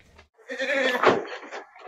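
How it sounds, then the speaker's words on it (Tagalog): Goats in a farm's goat pen let out a loud, wavering bleat up close, with a fainter bleat just before it and soft rustling around them. "Nandito tayo sa area ng mga kambing."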